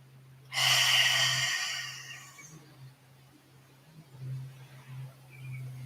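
A deep, slow exhale during a yoga class rushes out loudly and close, then fades into quiet breathing against a low steady hum.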